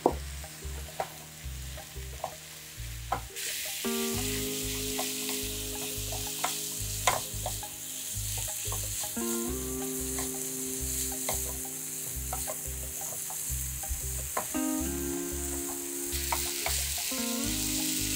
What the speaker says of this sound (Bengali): আমার মিশ্রণটা প্রায় ভাজা ভাজা হয়ে গেছে